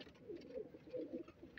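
A breeder pigeon softly coos at night, a brief faint low murmuring call.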